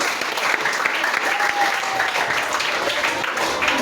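Crowd clapping at a club inauguration in Jikwoyi, dense and steady applause filling the space, loud and unbroken, with a faint whistle in the middle.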